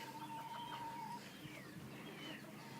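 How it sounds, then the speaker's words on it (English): Rooster and chickens on a farm with ducks and geese, a long sustained call early on followed by scattered clucks and softer bird calls over steady outdoor background noise. "He's a rooster."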